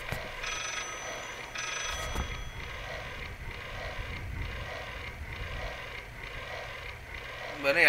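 A telephone rings in Layers of Fear, a game set in an eerie house, giving repeated evenly spaced rings of moderate loudness over a low ambient hum. A voice speaks briefly near the start.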